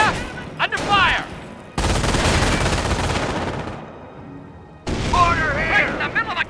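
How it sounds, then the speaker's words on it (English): Heavy gunfire and booming explosions in a World War II firefight in Company of Heroes, loud dense bursts filling the scene, with shouted voices breaking in at the start and end. "Right in the middle of a goddamn firefight."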